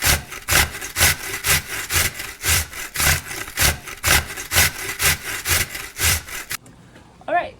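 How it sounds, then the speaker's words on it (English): Potatoes grated by hand against a metal grater in steady rhythmic rasping strokes, about two per second, loud and close, stopping near the end with a faint sound after. "we're just gonna grate it by hand like this"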